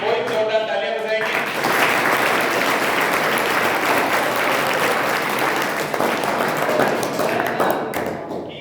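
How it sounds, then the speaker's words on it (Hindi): Loud, sustained applause from a school audience at a Constitution Day celebration, dense clapping filling the room for several seconds after a brief voice at the start. "कोई जोरदार तालियां बजाएंगे।"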